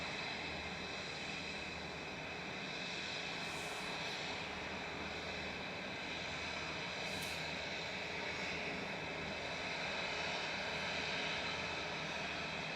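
A Singapore Airlines airliner at Manchester Airport gives off a steady, broad jet-engine roar while lined up, holding at an even loudness throughout with no voices over it.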